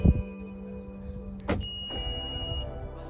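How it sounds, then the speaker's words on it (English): Central locking actuating the fuel flap lock on an Alfa Romeo Giulietta with a faulty flap: a couple of sharp close mechanical clunks and a brief whirring click amid a faint steady electrical hum, no talk. "Perhaps I'll just take this off now and just hit the central locking button and see if it actually goes."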